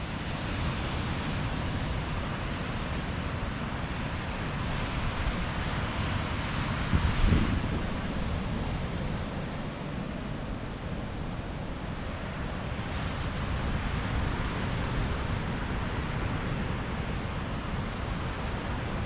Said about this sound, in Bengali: সমুদ্রের গর্জন বাড়িতে বসেই শুনতে পাচ্ছে